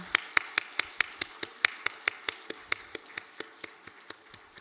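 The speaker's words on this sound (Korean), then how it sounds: "박수로 하나님께 영광 돌리겠습니다." Congregation clapping in unison at a Wednesday evening devotional service in a Korean church, a steady rhythmic run of about twenty sharp claps, fairly close and alone with no talk over it.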